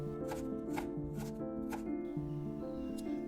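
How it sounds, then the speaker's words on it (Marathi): A knife slices onion and tomatoes finely for a paneer biryani, making a series of quick, crisp chopping taps over steady background music. "त्यानंतर एक कांदा घ्यायचा आहे व टोमॅटोप्रमाणेच ओनियनचेही बारीक स्लाइस करून घ्यायचे आहेत."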